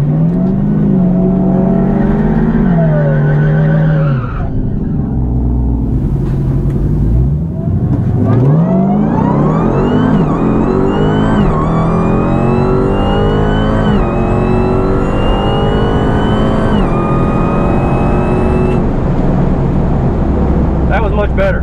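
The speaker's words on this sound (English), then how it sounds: "We'll see how the car is running." A race car engine runs loud and close, its pitch sweeping upward in repeated rising pulls as it accelerates, with a brief dip partway through and a steady throttle-driven roar throughout.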